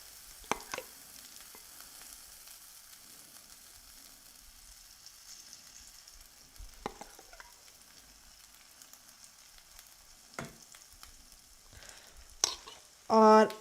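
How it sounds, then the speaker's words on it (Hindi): Batter poured over cauliflower frying in a hot pan gives a quiet, steady sizzle with a few scattered clinks, then a loud clatter near the end. "अपने बैटर को वापस से इसके ऊपर डाल देंगे"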